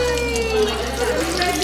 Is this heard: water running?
yes